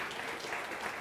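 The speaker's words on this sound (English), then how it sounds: "you can clap for that if you want to" A church congregation claps in a brief, steady burst of many hands applauding together, moderately loud and with no talk over it.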